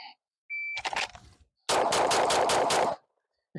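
Rifle shots at an outdoor shooting range: one sharp report, then a rapid burst of about five close, loud shots with no talking.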